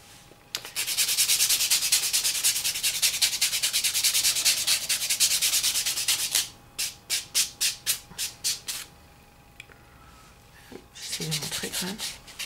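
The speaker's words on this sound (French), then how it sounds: "donc je ponce les couches pour que ce soit beaucoup plus lisse" A white buffer block sands down layers of nail polish on a fingernail, a steady scratchy rubbing for several seconds, then a run of short rhythmic strokes, with a brief voice near the end.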